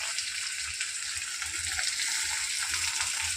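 Onions and curry leaves fry in hot oil with mustard seeds and cumin, giving a steady close-up sizzle with faint crackles and pops throughout.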